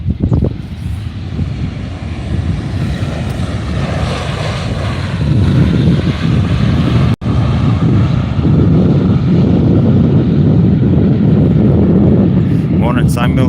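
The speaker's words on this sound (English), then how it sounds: "we've got an EasyJet from Birmingham" EasyJet airliner at Faro Airport, a loud sustained roar of jet engines rising and holding steady with wind buffeting, heard from nearby on the apron.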